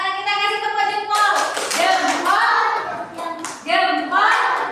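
An Indonesian classroom of students gives a 'thumbs-up' clap cheer for a group presenting a poster. Chanted voices ring out in unison over rhythmic clapping, close and fairly loud, in several short bursts.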